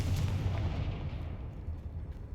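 A Confringo spell explosion in Hogwarts Legacy gives a loud, deep booming blast that rumbles and slowly fades over a couple of seconds, with no voices.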